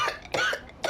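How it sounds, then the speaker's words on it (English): Three harsh coughs in quick succession, close and fairly loud, with short gaps between them. "Cough is killing me."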